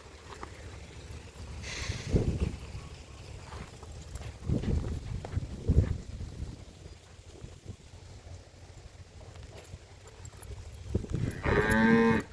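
A buffalo lowing in a farm setting, with a few deep, loud calls spaced several seconds apart over a shuffling, noisy background.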